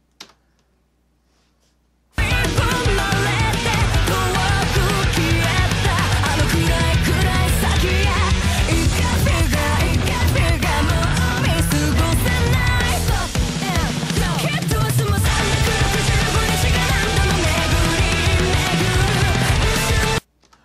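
A heavy rock song plays loud and dense for most of the stretch, with driving drums and distorted guitars kicking in after a short silent opening.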